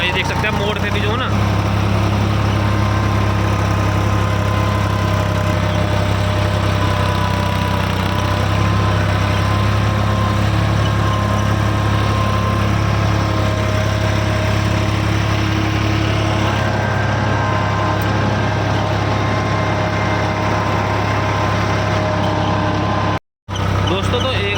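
A tractor engine pulling a cultivator through a field drones steadily at a constant low pitch, around 1200-1300 rpm, loud and close, with a brief cut near the end.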